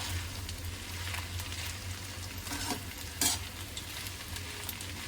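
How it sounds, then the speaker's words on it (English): Aglio olio pasta is stirred in a pan, with soft sizzling under repeated scraping strokes and one brief louder clatter, close and fairly quiet. "Let us stir"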